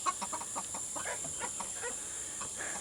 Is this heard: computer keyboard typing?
no